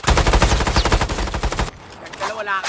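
Rapid, loud automatic gunfire bursts in a first-person shooter game, dense and continuous for over a second before cutting off, followed by quieter game ambience.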